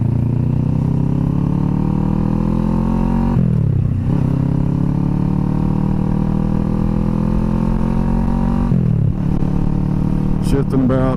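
A motorcycle fitted with a Delkevic SS70 slip-on exhaust accelerates hard and loud, its engine note climbing steadily through two gears with brief dips at each shift, running close and continuous throughout.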